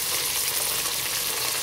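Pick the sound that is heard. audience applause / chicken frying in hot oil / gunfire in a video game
chicken frying in hot oil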